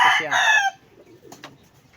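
Gamecock rooster raised for cockfighting giving a short, loud, close crow or clucking burst, then near silence with faint rustling.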